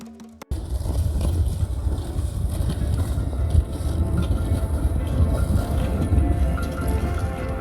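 Strong wind blows steadily across an open snowy landscape in Arctic Norway during extreme cold, a dense low roar that gusts without a break and buffets the microphone, with no voices.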